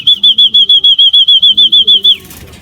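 Racing pigeons landing at a loft beat their wings in a fast, even run of about a dozen close, loud flaps, each paired with a high whistling tone, then a brief scuffle as the flapping stops.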